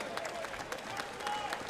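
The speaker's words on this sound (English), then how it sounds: "A round of applause, please, for these two warriors." At a Kings Of Kombat boxing event, a crowd applauds two boxers after a grueling ten-round bout; distant scattered clapping and crowd noise, fairly faint, with a voice speaking over it.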